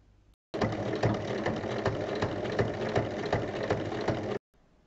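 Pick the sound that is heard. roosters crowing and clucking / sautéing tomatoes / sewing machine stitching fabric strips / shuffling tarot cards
sewing machine stitching fabric strips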